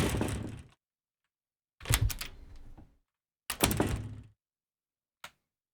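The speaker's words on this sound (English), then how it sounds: "Screen door." Screen door Foley effect from the Krotos Studio Genesis pack, triggered from a keyboard: three separate clattering bangs, each with a rattling tail, followed by a faint short click, with silence in between.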